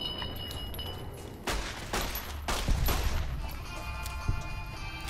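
Gunfire in Fallout New Vegas, with a few sharp, irregular shots and bursts spread over several seconds against a low ambient hum, with no talk.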